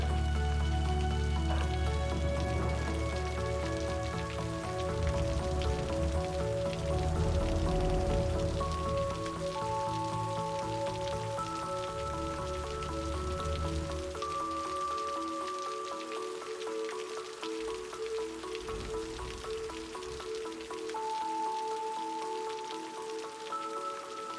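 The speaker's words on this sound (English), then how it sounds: "Hard to see in the rain as usual." Steady in-game rain from Cities: Skylines, pattering continuously for the whole stretch over a layered musical backdrop, with the deeper tones dropping away partway through.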